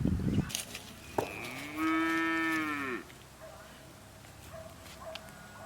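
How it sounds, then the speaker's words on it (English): A single long moo from cattle on a farm, a bull with heifers, rising and falling over about a second, with people talking quietly around it and light outdoor background noise. "This is your bull here? Yes, sir. Those are heifers."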